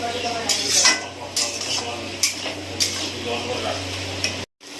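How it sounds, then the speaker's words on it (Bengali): A spoon stirs a curry of water lily stems with sugar in a pan, scraping and clinking in regular strokes over a low hum. "এই চিনিটা দিয়ে আমি খুব সুন্দর করে নেড়ে নেড়ে কিন্তু এটাকে আমি রান্না করে নেব"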